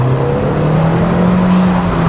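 A Mk1 Audi TT 225 engine fitted with an induction kit hums steadily and loud up close, its pitch slowly climbing with a breathy intake whoosh, no voices.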